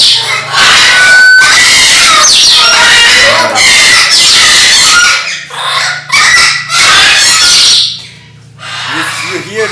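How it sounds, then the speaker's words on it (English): Flocks of parrots at a large sanctuary in Belgium screech and squawk at piercing volume, a dense overlapping din with brief lulls, close by. "You hear the birds crazy loud"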